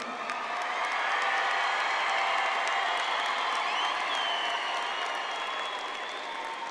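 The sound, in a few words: applause from graduation ceremony audience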